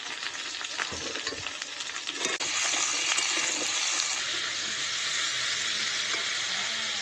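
Potatoes tipped into hot oil in a home frying pan, already holding chillies, set off a loud, steady close-up sizzle that swells sharply partway through and keeps crackling evenly to the end.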